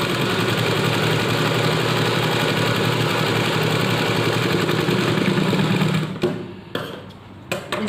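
An electric sewing machine runs a double line of stitching on a kurti, giving a loud, steady mechanical whir for about six seconds before stopping, followed by a few short stutters.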